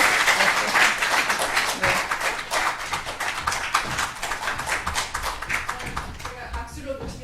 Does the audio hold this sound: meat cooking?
no